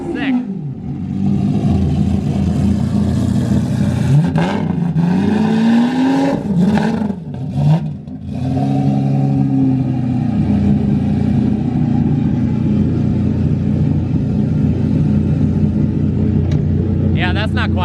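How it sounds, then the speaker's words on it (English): A BMW M3 with a manual gearbox roars loud and close, its engine note rising and falling through several revs, with people talking excitedly over it. "Wow, that is loud."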